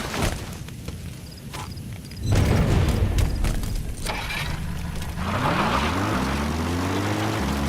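A support helicopter arrives for extraction in Metal Gear Solid 5: The Phantom Pain, its rotor and engine roar rising in and holding steady and loud, a low pulsing drone that grows denser toward the end.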